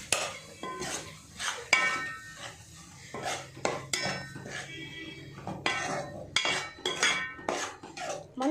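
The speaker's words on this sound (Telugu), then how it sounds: "మంచిగా అన్నంకి దట్టేటట్టు కలుపుకోవాలి." A spoon scrapes and clinks against a metal vessel while rice is mixed with curd, giving repeated close clatters and scrapes in an irregular rhythm, with no talking.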